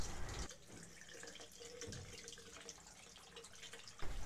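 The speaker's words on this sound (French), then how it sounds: "Après 20 secondes d'écoulement de l'eau du robinet" Tap water at 40 degrees, run for ear irrigation, pours from a faucet as a faint, steady rushing stream with no voices.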